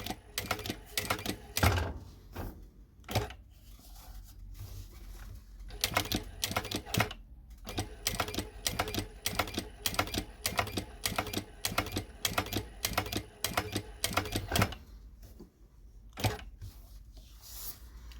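Garudan GF5131-447 sewing machine stitching at low speeds, a run of rhythmic mechanical clacks in short groups, loud and close, with brief pauses between bursts.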